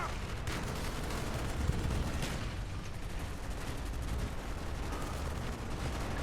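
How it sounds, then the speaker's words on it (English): Call of Duty Black Ops PC campaign gameplay with dense, continuous gunfire, rapid overlapping shots and booming blasts forming a loud, constant barrage with no clear breaks. "And then Wood shoots the dead body."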